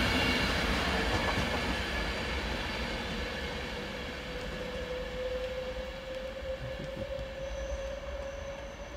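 British Rail Class 390 electric train 390134 "City of Carlisle" rolls steadily through Lancaster station on the West Coast Main Line, a continuous loud rumble with a rising wheel whine and faint squeal, no voices.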